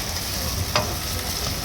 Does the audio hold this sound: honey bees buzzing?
no